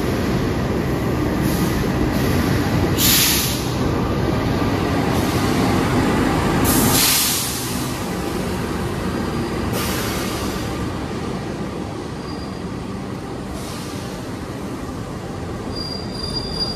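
Wijaya Kusuma passenger train carrying baggage, economy premium and executive cars, rolling past with loud sustained wheel squeal and heavy rumbling, the screech easing after a few seconds but continuing under steady track noise.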